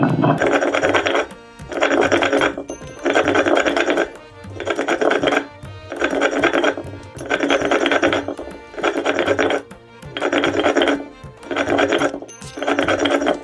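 A kitchen mixer grinds a spiced filling into a paste in about nine short, loud whirring pulses, each roughly a second long with brief pauses between, close by and with no speech.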